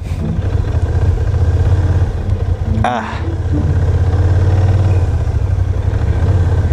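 Engine of a Kymco AK550 motorcycle on a test ride in Baguio City, a steady low rumble that holds through the moment. A brief clatter and a squeal cut in near the middle, and then the even engine tone returns, close and loud.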